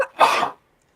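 A single sharp sneeze bursts out close by, brief and loud, then silence.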